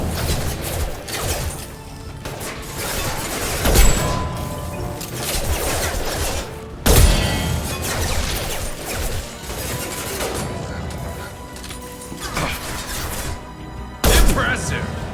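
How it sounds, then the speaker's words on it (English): Concussive shots and gunfire in a Mass Effect 2 firefight on Omega, with sharp crashing impacts near 4, 7 and 14 seconds standing out over continuous dense combat noise and talk. "Firing concussive shots!"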